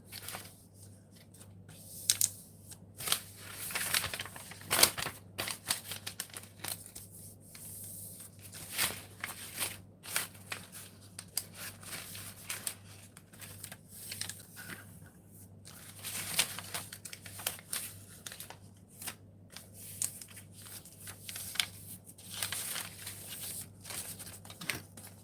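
Paper napkins being folded and handled to make bag handles, giving a long run of soft rustling and crinkling with irregular crisp paper handling throughout, close and fairly quiet.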